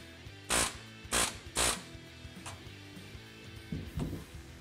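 Solid aircraft-grade rivets are set into metal during custom car fabrication: three sharp, close metallic bursts in quick succession, followed by a few fainter knocks and clanks.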